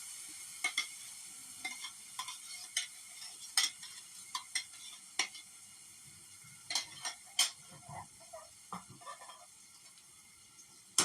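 Tomato, onion, ginger and garlic fry in butter while a utensil stirs them, scattered clicks and scrapes against the pan over a quiet, steady sizzle, close and fairly soft.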